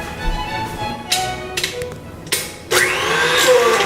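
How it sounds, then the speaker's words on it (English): An electric stand mixer with a paddle attachment beats butter for shortbread cookies, whirring up in short bursts after a few clanks and taps, then running steadily and loudly. "So we're gonna churn this butter."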